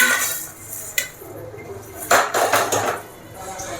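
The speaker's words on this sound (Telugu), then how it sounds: "ఇప్పుడు మనం ఒక ప్లేట్లోకి తీసుకోవాలి." Fried spices are scraped from a pan onto a plate while cooking cauliflower fry, metal utensils clinking and scraping in a few sharp bursts close by, with a voice faintly in the background.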